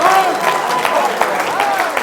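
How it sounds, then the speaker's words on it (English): An audience at a motivational speaking event applauds an older man, a dense, steady wash of clapping with raised voices and cheers mixed in throughout. "Give the old man a round of applause"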